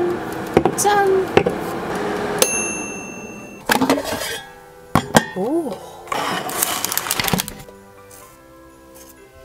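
Beer glasses clink together in a toast during a solo Christmas night at home with air-fried snacks: a few bright, close chimes and clatters, with voices and table sounds around them.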